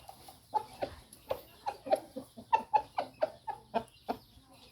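A ten-month-old gamefowl chicken clucks steadily at close range, a quick run of short, evenly spaced clucks with no talking.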